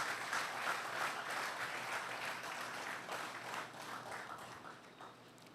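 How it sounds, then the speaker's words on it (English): Sustained applause from a conference audience at an awards ceremony, a steady wash of many hands clapping throughout that thins slightly toward the end. "hand of applause"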